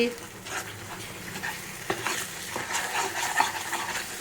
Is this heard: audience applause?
no